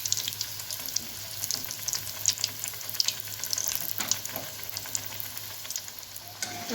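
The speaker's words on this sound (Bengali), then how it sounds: "এবার আমি ঠিক একইভাবে বাদবাকিগুলো ভেজে নেব।" Potato snacks frying in oil in a pan give a steady, close crackling sizzle with sharp pops scattered throughout, no voices over it.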